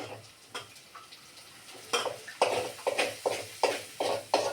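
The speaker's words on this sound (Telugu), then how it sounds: "ఇప్పుడు నా కొడుకు కలుపుతాడు" Noodles with ginger paste being stirred in a pan, a series of rhythmic scraping and tapping strokes over a soft sizzle, growing louder and more regular in the second half.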